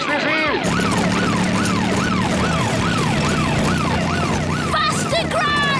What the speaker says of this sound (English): And now there's a police car.